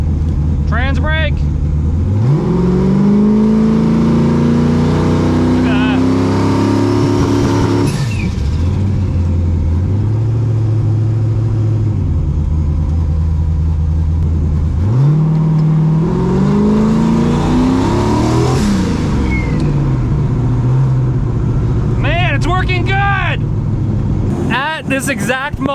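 A drag car engine with new camshafts starts up and revs hard, rising in long sweeps, dropping to a loping idle, then climbing again, loud and close, with voices talking over it at times.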